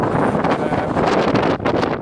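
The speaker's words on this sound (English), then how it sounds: "That's very windy today." Strong wind buffets the microphone on the open Mongolian plain, a loud continuous roar with gusty rustling bursts throughout and no talking.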